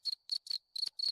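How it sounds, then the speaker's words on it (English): A cricket chirping sound effect played from a Discord soundboard: five quick, bright trilled chirps in a steady rhythm, clear and alone with no talking. "If not, there's a cricket."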